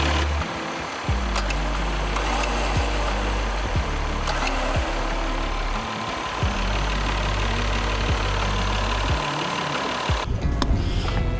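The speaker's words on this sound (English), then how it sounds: "Engine's running." A Jeep Gladiator's EcoDiesel engine idles with a steady, close, rough diesel rumble and a faint rhythmic knock that runs unbroken throughout.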